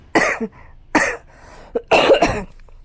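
Several harsh coughs close by, in separate bursts spaced over a few seconds, with a quick double cough near the end.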